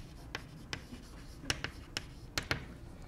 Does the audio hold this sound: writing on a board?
yes